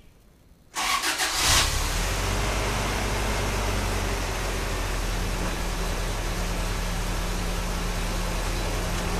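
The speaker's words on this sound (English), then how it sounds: "All right, now we have the engine running." A car engine starts and settles into a steady idle during a blown head gasket check, a constant low rumble with a broadband hiss that holds after the initial crank.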